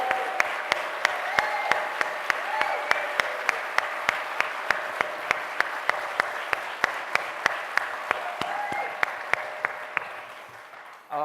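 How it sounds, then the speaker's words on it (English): Audience at a mayoral debate breaks into steady applause, a dense roomful of clapping that holds at an even level for about eleven seconds before tapering near the end, with no voices over it. "why don't we give both of them a round of applause?"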